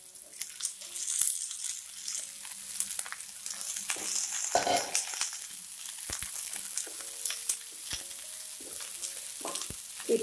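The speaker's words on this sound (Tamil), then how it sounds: "வெங்காயம் வதங்கிடுச்சு. இப்படி வெண்டைக்காய் போட்டுடலாம்." Cut okra, about 300 grams, sizzles and crackles in a pan over sautéed onions, with scraping stirs and clinks of a spatula and a brief louder stir partway through, fairly quiet and close.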